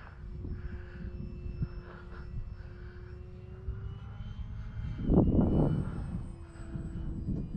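A small electric motor on an Arrows RC Trekker trainer plane, running a 2200 3S battery, whines steadily in the distance, swelling louder around the midpoint as the aircraft passes closer, then easing off.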